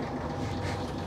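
An old sailboat's 30-year-old engine, left unused for eight months, runs at a steady idle. It makes a close, continuous low rumble and drone with a breathy wash over it, and no voices are heard.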